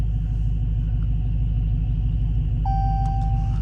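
A Dodge SRT Hellcat engine rumbles with a steady, loud low-end drone throughout, joined near the end by a sustained electronic beep or chime.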